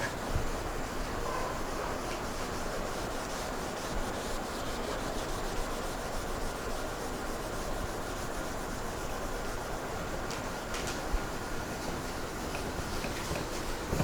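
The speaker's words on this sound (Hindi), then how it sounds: "I rub this" A classroom board is wiped clean with a steady, continuous rubbing, a soft scraping hiss that goes on for about fourteen seconds with no talking.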